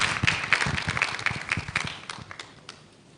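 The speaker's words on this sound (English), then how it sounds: "Shall we put a round of applause for him?" Audience applause at a Ghana College of Pharmacists event for the college president, a short burst of scattered clapping that fades out over a few seconds.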